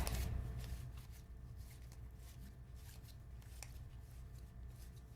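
A HeroQuest monster stat card is pulled from a deck, giving quiet, close papery rustling and light scraping flicks of card against card.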